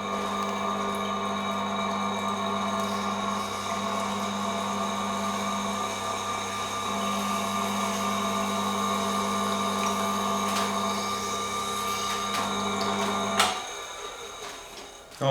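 A Tormek water-cooled sharpening wheel grinds a Japanese knife with a steady, even whirring hum that holds for about thirteen seconds before the grinding drops away, close and moderately loud with no voices over it.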